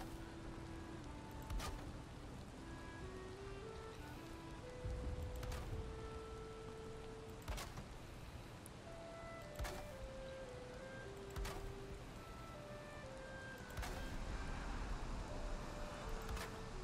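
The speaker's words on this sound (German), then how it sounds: "das regnet einfach zu den unpassendsten Momenten im Spiel" Steady rain falling in the video game Valheim, a constant hiss with a few louder gusts, overlaid by soft tonal game music notes and occasional sharp clicks.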